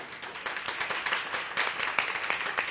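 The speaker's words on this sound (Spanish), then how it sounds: "quiero un aplauso para nuestras panelistas." An audience applauds panelists at a women-in-technology talk, with fairly sparse, distinct hand claps in an irregular rhythm, moderately quiet and close.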